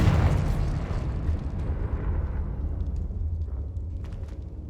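A Confringo spell blast in Hogwarts Legacy on Xbox Series X: one loud, booming burst at the start that fades into a rumbling, crackling decay, with no voices.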